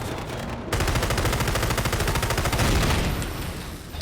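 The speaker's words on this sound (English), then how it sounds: "who's shooting me?" Gunfire in the video game Hunt Down the Freeman: a loud, sustained burst of rapid automatic shots that begins abruptly and rattles on without a break.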